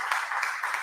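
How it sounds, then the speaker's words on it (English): An audience at a creators' festival live event claps together, a steady dense patter of many hands with small swells, brief and fairly close. "Can we clap and make some noise?"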